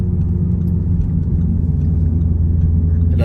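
An Audi car driving on the road, heard from inside the cabin as a loud, steady low engine and road rumble with a faint ticking over it and no talking.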